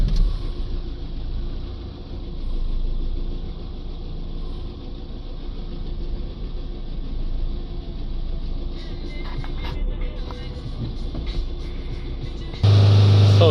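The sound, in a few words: Iveco Daily 2.3 diesel engine running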